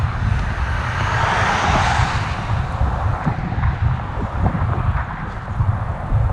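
Road traffic on a highway on the Keweenaw Peninsula swells and fades as vehicles pass close by, a loud rushing roar with a few sharper thumps.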